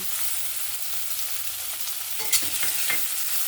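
Small shrimp frying with onion and tomato in a pan, a loud steady hiss of sizzling oil with a few brief stirring scrapes and knocks near the end; no talk.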